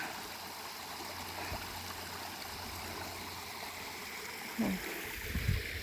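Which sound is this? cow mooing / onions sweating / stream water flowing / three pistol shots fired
stream water flowing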